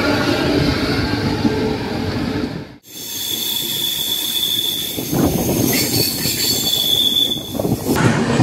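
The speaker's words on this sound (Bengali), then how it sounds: "অবশ্যই ট্রেন ছেড়ে বেরোলো ডালখোলা থেকে" A passenger train pulls out of Dalkhola station, wheels rumbling and squealing on the rails, loud and close, with a brief dropout before the clatter resumes and carries on steadily.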